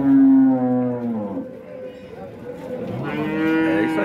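A dairy cow at a milk-cattle fair in Dois Riachos, Alagoas, lets out a loud, drawn-out moo close by, then a second, rising call a few seconds later, with no talking over it.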